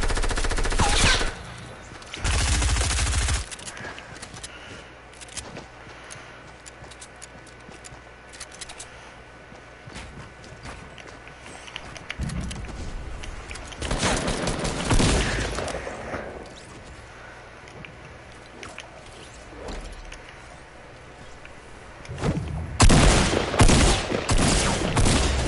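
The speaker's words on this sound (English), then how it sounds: "she had a blue submachine gun" Bursts of submachine gun fire in a video game, rapid rattling volleys in several loud clusters separated by quieter stretches of faint in-game ambience, with no talk over them.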